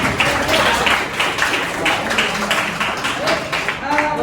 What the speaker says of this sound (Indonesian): silakan beri aplaus dulu untuk